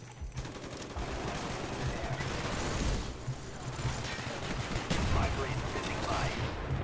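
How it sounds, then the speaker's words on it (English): Call of Duty: Black Ops gunfire plays out as dense, continuous rapid shots and bursts across the whole stretch, with a voice talking now and then over the shooting. "Just keep firing over and over again."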